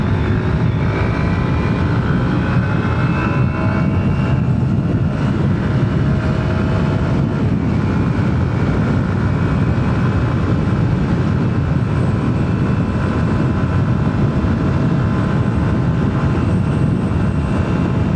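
A Raider J115 Fi motorcycle runs flat out at top speed, a loud, steady engine drone buried under constant roaring wind rush for the whole stretch, with no talk.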